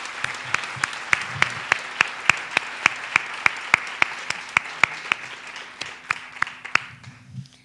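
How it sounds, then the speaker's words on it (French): An audience applauds students who have come on stage with their teacher at a school closing event, a steady rhythmic clapping that holds an even beat, then thins out toward the end. "Je crois qu'ils méritent encore une bonne main d'applaudissements."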